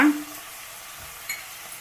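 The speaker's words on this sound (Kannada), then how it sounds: "ಅರ್ಶಿನ ಪುಡಿ ಇದು ಕಸ್ತೂರಿ ಮೇಥಿ ಎಲ್ಲ ಹಾಕ್ಬಿಟ್ಟು ಮಿಕ್ಸ್ ಮಾಡ್ಕೊತಾ ಇದ್ದೀನಿ" Spices such as turmeric and kasuri methi being stirred into spinach palak rice with peas in a pan, a soft scraping stir that fades quickly into a quiet low sizzle, with one faint click near the end.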